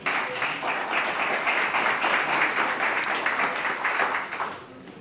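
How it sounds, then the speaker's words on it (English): An audience at a public meeting applauds, with dense, steady clapping that holds for several seconds and then tapers off near the end. "Can we just give John a round of applause one more time?"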